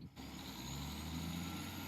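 A Class 153 diesel railcar in Train Simulator Classic works under power, heard from outside as a steady, fairly faint low engine drone with no breaks.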